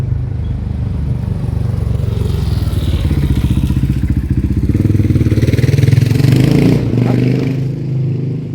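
A motorcycle engine rumbles close by, rising to a loud throbbing peak and easing off as it rides past, with no talking.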